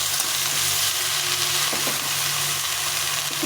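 Chopped spinach fries in a pan with a loud, continuous sizzle and hiss, while a utensil scrapes and stirs it a couple of times, no voices.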